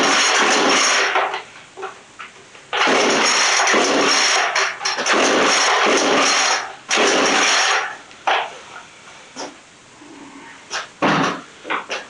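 Repeated pull-cord starting attempts on a flooded Poulan Pro 42cc chainsaw, loud rasping bursts of a few seconds each, then shorter pulls, with quieter pauses in between.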